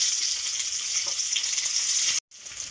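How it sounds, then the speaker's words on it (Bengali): Onion frying in hot oil with black cumin seed and garlic in a kadai for palong shak ghonto, a steady close bright sizzle that cuts out for a moment near the end and then resumes, with no talking. "এখন পেঁয়াজগুলোকেও ফোড়ন দিয়ে দিব"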